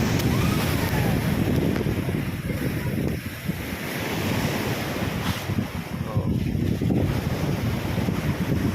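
Ocean surf rolls and crashes continuously at a shore lined with beached fishing boats during a storm, while strong wind buffets the microphone, a dense roaring wash with no pauses.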